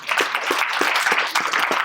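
An audience claps for a social media team at a Truist event on data and insights in social media, a steady, dense patter of many hands that holds even throughout, with no talk.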